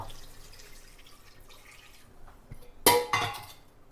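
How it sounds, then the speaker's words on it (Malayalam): Water is poured into a pot of chicken curry: quiet drips and clinks, then a short loud splashing gush near the end. "ഇപ്പം നമുക്ക് ഇനി ആവശ്യത്തിന് വെള്ളം കൊടുക്കാം കേട്ടോ"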